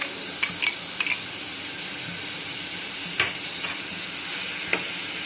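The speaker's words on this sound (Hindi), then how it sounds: "यहाँ पे हम छोटी चॉप की हुई प्याज ऐड करेंगे" Chopped onions frying in oil in a pan for a chickpea curry, giving a steady soft sizzle with a few light clinks and stirring scrapes scattered through it, close by and with no talk.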